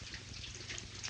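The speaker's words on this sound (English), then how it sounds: "I wonder why that egghead don't shut that water off." A water tap left running hisses steadily and quietly, a broad soft rush with faint gurgles, with no voices over it.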